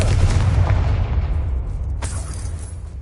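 A Confringo blast spell explodes in Hogwarts Legacy, a loud low rumbling boom that fades slowly, followed by a sharp crack near the end.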